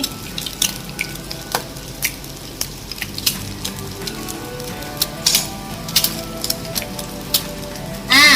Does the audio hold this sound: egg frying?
yes